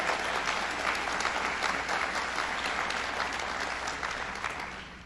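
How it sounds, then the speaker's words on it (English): Dense audience applause at a governor's public event in Buffalo honoring the state police, a steady wash of many hands clapping that holds for about five seconds and tapers slightly at the end. "Let's give the state police a round of applause and Colonel Grover."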